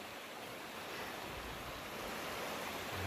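River water in Ponce, Puerto Rico rushes steadily and broadly, a continuous close wash of flowing current with no voices over it.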